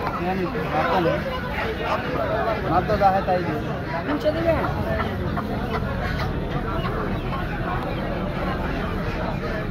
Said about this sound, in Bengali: সম্পূর্ণ দেশি মুরগির কালেকশন আপনারা দেখতে পাচ্ছেন।